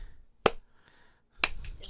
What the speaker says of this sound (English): Oh, the slow clap.